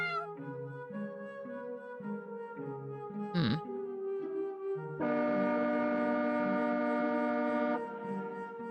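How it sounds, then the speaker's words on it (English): A long, droning horn-like tone sounds in the Tales of the Black Forest video game, holding steady for several seconds after a shorter wavering tone and a brief whoosh, moderately loud with no talking. "It sounds like a train horn."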